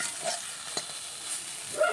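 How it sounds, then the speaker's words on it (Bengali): Neem leaves fry over low heat in a pan, giving a soft, steady sizzle with a few light scrapes of stirring, quiet and close, with no talking. "আমি এই যে আঁচ কম দিয়ে দিয়ে ভালো করে ভেজে নিচ্ছি।"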